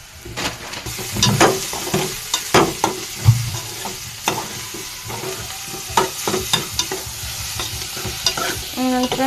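Food sizzling in a hot pan while a utensil scrapes and stirs it, with irregular clanks and scuffs over a steady frying hiss.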